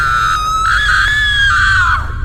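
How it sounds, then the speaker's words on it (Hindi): A single loud, sustained scream with a wavering pitch that bends downward at the end, belting out alone in an animated Hindi story. "तभी सामने से चीखने चिल्लाने की आवाज एक बार फिर से आने लगती है"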